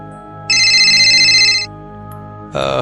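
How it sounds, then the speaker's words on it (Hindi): A mobile phone rings with a bright electronic tone, one loud burst of about a second, then a pause and a second burst starting, close over a quiet low music bed. "अचानक मोबाइल बज उठा।"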